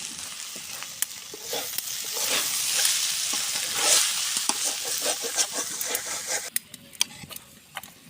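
Bean and cauliflower bhaji sizzles and fries in a pan over a clay stove, a steady close hiss with scraping stirs and occasional sharp spatters, easing toward the end.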